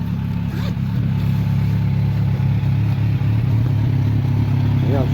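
A motorcycle engine runs steadily nearby, a low, constant mid-pitched drone with slight fluctuations. Faint background chatter sits beneath it.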